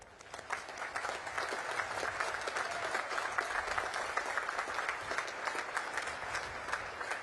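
Sustained applause from a large crowd at a Naval Academy commencement ceremony, steady and even throughout, a dense wash of clapping heard from a moderate distance.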